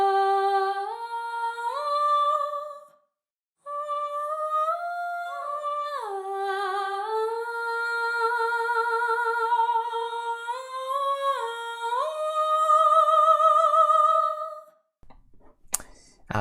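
Sampled choir voices from Audio Imperia's Jaeger library sing smooth sustained vowel chords that glide between pitches, pausing once, then fading out with a few soft clicks at the end.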